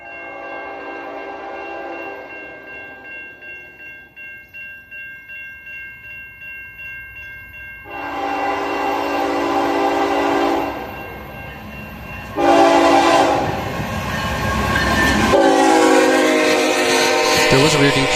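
A GEVO-powered freight train, M30241 running Winnipeg to Toronto, passes close by with several loud, sustained multi-chime horn blasts over the rumble of the locomotive, ending in heavy rolling noise.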